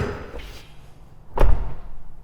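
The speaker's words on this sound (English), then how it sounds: "So let's open and shut the door." A single heavy car door thud on a V12 car from Japan without soft close, a solid slam after a faint rustle of the door opening, with nothing else around it.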